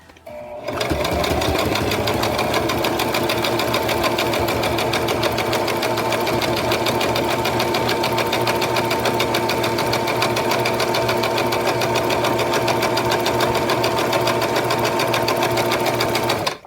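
A sewing machine stitches fabric for a handmade art doll, running steadily and loudly almost without pause for about fifteen seconds.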